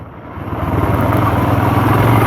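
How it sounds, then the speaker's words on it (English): A Royal Enfield Himalayan motorcycle's exhaust pulls under load on a UK trail, a loud, close, rough engine drone that swells steadily as the throttle opens. "Exhaust sounds good under load."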